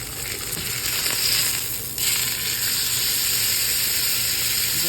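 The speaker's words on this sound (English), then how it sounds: "We'll let that sear for another couple minutes" Ribeye steak searing in a hot pan at home, a steady loud sizzle and hiss that runs continuously with no talk.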